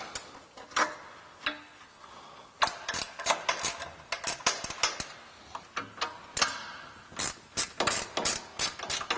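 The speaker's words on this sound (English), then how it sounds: "A ratchet wrench makes really quick work of this." Rapid bursts of ratchet wrench clicks from a 10mm socket spinning off nuts on a Jeep Gladiator JT's pinch weld during rocker guard installation, close and loud, in repeated quick runs with short pauses and no talking.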